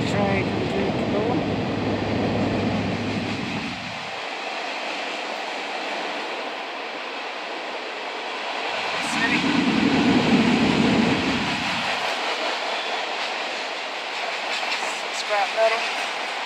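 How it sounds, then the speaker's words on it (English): A train, apparently hauling scrap metal and coal, rumbles past through Toccoa, Georgia with a steady rolling roar, swelling louder midway before fading into ongoing background noise. "There's the train coming through the door."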